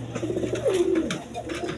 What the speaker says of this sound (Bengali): দেখার মতো কবুতর, কোয়ালিটি সম্পন্ন কবুতর